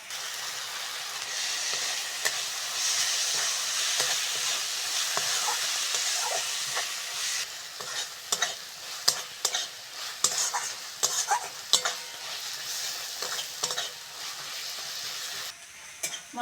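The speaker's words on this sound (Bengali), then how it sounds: "মশলাটা ভালো করে কষে নিয়েছি" Spice masala stirred and fried in a pan for a tilapia curry, steady sizzling with repeated scraping and clattering of a spoon against the pan, close and fairly loud, no talk.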